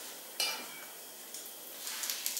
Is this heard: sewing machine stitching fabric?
no